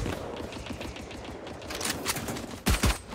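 Rapid bursts of gunfire in Valorant, a fast stream of repeated shots followed by a couple of heavier, louder blasts near the end, close and dominant.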